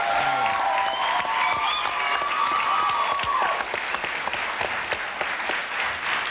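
Studio audience applause for comedian Eddie Izzard as he arrives on a late-night talk show, a loud, steady wash of clapping filling the whole stretch with a few whoops over it.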